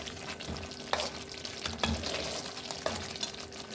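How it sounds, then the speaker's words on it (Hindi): Chicken white karahi being stirred in a hot pan: steady sizzling and frying with soft scraping strokes and a few sharp clinks of the spoon, and no talking. "सब चीज़ हम इस तरह मिक्स कर लेंगे।"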